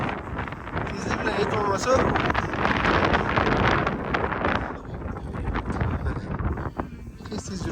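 Strong gusting wind buffets the microphone on the Zomin suspension bridge, a continuous broadband roar with someone speaking briefly under it.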